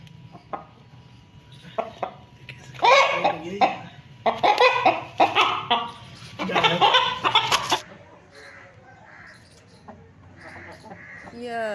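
Pet hens kept at home cluck in several uneven bursts, some loud and close, mixed with people talking nearby and a few sharp knocks.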